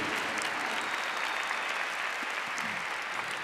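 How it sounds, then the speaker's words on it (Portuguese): A church congregation applauds during a Catholic service honoring the Virgin Mary, a sustained, even wash of clapping from many people that holds steady throughout. "Pode aplaudir a Virgem Maria, porque é isso que Deus quer na nossa vida."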